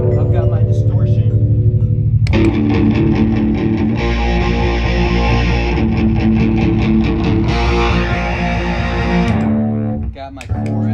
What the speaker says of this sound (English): And I've got my distortion.